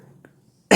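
A single sharp cough bursts out at close range after a brief murmur, loud and isolated at the end of a short pause in an indoor lesson on computer basics.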